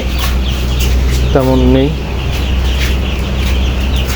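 Backyard chickens give a brief rising cluck near the middle, heard over a steady background hum while a person talks nearby.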